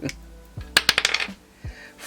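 Dice tumble across a hard surface in a home cash-stuffing game, a quick rattling burst of small clicks and skitters lasting about half a second, close by and without talk.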